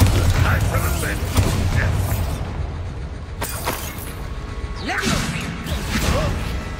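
A Bombarda explosion spell in Hogwarts Legacy, with booming, creaking blasts amid battle noise and a voice calling out over the fight.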